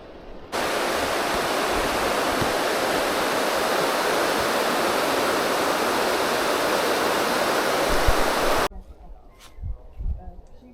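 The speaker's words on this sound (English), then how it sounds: "the bridge where the water goes out of the lake down into the river" Water pours out of a lake at a bridge and down into a river in a winter park, a loud steady broadband rush like a weir that cuts off abruptly near the end, leaving faint outdoor sounds.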